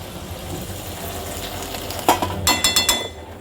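Milk poured into simmering shukto with shukto spice mix in a pan, a close steady sizzle and stir noise ending in a quick run of metallic clinks from a spoon against the pot.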